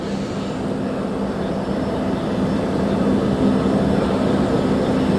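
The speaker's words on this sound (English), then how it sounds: "We've since learned that that's actually a Boeing 767-300 wide-body jet" A Boeing 767-300 wide-body jet carrying the Patriots arrives at the airport in San Jose, producing a loud, steady engine roar and rumble that fills the whole stretch without pause.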